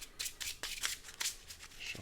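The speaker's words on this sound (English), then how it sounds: "shuffle this up real quick." A deck of Marvel Champions game cards gets shuffled by hand, with close, crisp riffling bursts repeating in an uneven rhythm and no talk over them.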